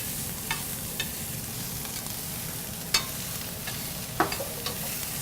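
Peppers stir-frying in a pan for a holiday-leftovers turkey dish give a steady low sizzle, with a few scattered utensil clicks and scrapes standing out from the hiss.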